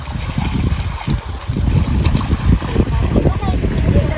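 Strong mountain river water rushing and splashing, a loud, close, turbulent roar with bursts of splashing and people talking over it.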